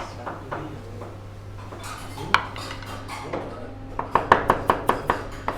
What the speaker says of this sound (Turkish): Sarımsaklar da iri doğranacak.